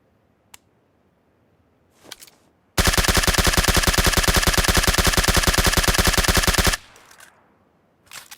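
A SCAR-L assault rifle in PUBG Mobile fires one sustained full-auto burst of about four seconds, loud and close with a fast, even rhythm of shots, framed by a few faint clicks and rustles before and after.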